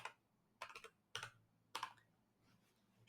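Keys tapped on a computer keyboard in short clusters of soft clicks, four quick bursts separated by pauses, close and quiet with no voices.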